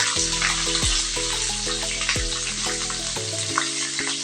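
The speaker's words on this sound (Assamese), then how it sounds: "এয়া তেল গৰম হৈছে। ইয়াত মই অলপ পিঁয়াজ দি দিওঁ। কাটি থোৱা পিঁয়াজখিনি দিছোঁ।" Chopped onions hitting hot oil in a pan, with a loud steady sizzle and crackle close by, along with a few scraping stirs and a faint low hum behind them.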